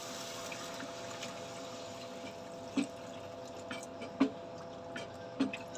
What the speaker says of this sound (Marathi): 300 ते 400 मिली एवढं पाणी टाकले मी।